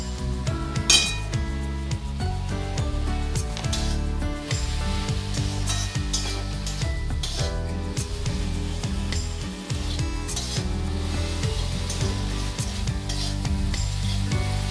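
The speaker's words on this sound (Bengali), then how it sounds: "এবার আমি হলুদ লবণের সাথে শাকটা ভালো করে ভেজে নেব।" Jute leaves frying with turmeric and salt in a pan, a steady loud sizzle throughout with clinks of a utensil stirring against the metal and no talking.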